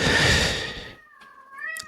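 A cat meows once after a burst of broadband noise, a clear, close, tonal cry with a second short meow rising at the end, alone with no talk.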